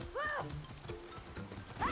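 Horse hooves clip-clop and a high whinny rise in a video game, the neigh sounding at the start and again at the end, with game noise and voices beneath.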